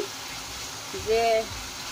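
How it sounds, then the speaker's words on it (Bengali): Spice paste with chili powder fries in a pan for a Bengali bele fish curry with pointed gourd, giving a steady close sizzle with a brief tonal scrape of stirring partway through. "এখন মশলাটাকে ভালো করে কষিয়ে নিতে হবে।"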